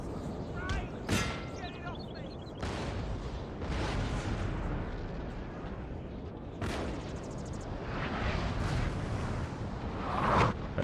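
Cannon fire on a Napoleon: Total War battlefield, several heavy booms spaced a few seconds apart over a constant battle rumble, with someone talking over it.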